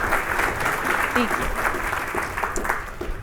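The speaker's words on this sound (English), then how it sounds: "a little round of applause wouldn't hurt" Audience applause at a conference panel on organizing key constituencies, steady clapping throughout with a voice speaking briefly over it.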